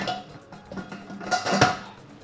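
The lid of a halogen oven is set in place with a few soft clattering knocks and one sharper clack of hard parts meeting, close and fairly quiet, with no talking.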